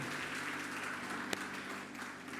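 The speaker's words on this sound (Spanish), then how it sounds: "Vamos a darle un aplauso fuerte al Señor" Congregational applause at a Spanish-language church service, a steady diffuse wash of clapping heard faintly at a distance with a low hum beneath and one sharp transient.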